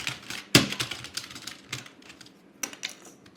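Clacky typing on a computer keyboard, irregular keystrokes with a few sharper hits, close and alone.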